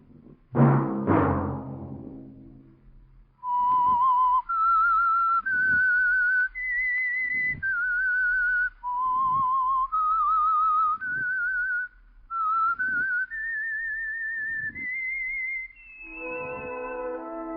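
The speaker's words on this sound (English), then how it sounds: "Let that whistle be your signal for the Signal Oil program, The Whistler" A lone whistled melody of sustained, clear notes that step up and down, each held for a moment with short breaks between them, serving as the theme of The Whistler radio show. A brief low tone opens it and a chord-like ending closes it.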